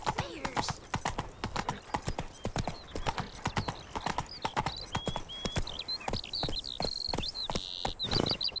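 Horse hooves in The Witcher 3 clatter in a fast, steady clip-clop rhythm close by, with bird-like whistling chirps rising in the background and a brief voice urging the horse on.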